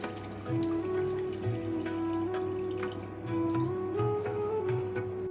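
Water is poured into a simmering Bengali yogurt chicken curry in a pan, making a continuous close gurgling trickle with a faintly rising pitch and soft bubbling underneath.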